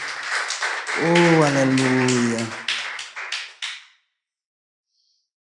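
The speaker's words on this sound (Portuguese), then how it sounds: "Aplauda o Senhor nesta noite." A church congregation claps during an evening service while a voice rings out over the first part; the clapping continues in scattered bursts before stopping abruptly into silence.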